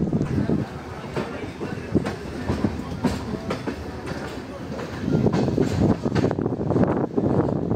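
A passenger train runs from Bengaluru to Mysuru, heard from inside as a continuous rumble with repeated clickety-clack wheel beats on the rails, growing louder in the last few seconds, with occasional wind buffeting.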